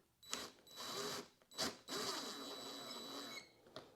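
A screw is driven back into a trim piece on a 2019 Harley-Davidson Street Glide CVO fairing, with short bursts of whirring from a power driver separated by brief pauses, fairly quiet and close.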